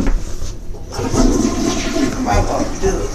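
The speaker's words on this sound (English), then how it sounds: "Make sure you flush that toilet seat good." A household toilet flushes with a loud, steady rush of water that runs through the whole moment at close range, with a brief pause in the high hiss near the start.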